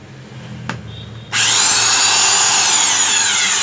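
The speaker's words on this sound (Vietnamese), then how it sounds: "Đó khoan thường đó" An ordinary electric drill, a Japanese-made tool with a 13 mm chuck, switches on after a brief click and runs at a loud, steady high whine, close up and alone.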